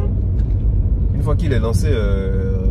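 A Mercedes C250 W204 turbo accelerating at full throttle, heard from inside as a steady, loud low engine rumble under someone talking throughout.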